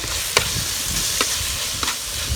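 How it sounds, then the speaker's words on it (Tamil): Curry leaves, coriander and mint sauté in a pan with onion and tomato for chicken curry, a steady close sizzle punctuated by three sharp spoon strokes against the pan. "கொத்தமல்லி கருவேப்பிலை தழை புதினா போட்டு வதக்கிக்கலாம்"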